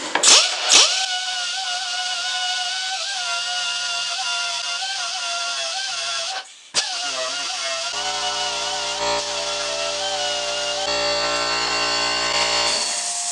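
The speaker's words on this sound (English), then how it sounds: "Alright, now I'm going to grind that right out." A power grinder cuts out a worn cam chain tensioner shoe on a Harley-Davidson, a steady close motor whine that briefly dips mid-cut before resuming and shifting in pitch as it bites.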